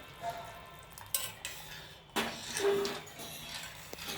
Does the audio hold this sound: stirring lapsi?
yes